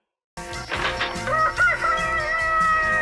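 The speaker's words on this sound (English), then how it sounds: "a perfectly timed rooster reveals that for some reason it's morning now" A rooster crows once in the Pac-Man video game to signal morning, a loud, clear cock-a-doodle-doo with clucking tones that follows a short silence and plays alone.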